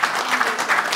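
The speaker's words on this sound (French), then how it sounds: "Applaudissez très fort, encore plus fort." Loud, dense audience applause at a political diaspora gathering in Paris, steady clapping filling the whole short moment.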